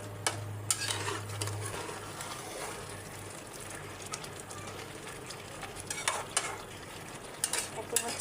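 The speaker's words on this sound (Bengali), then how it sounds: "শাকের ডাঁটা আর আলুগুলো দিয়ে দেবো। এখন হচ্ছে এগুলো নেড়ে চেড়ে নেব।" Spinach stalks and potatoes are stirred in a pan for a Bengali rohu fish curry with Malabar spinach, giving soft scraping and a light sizzle, with a steady low hum behind and faint utensil clinks.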